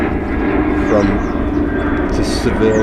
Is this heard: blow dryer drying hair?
no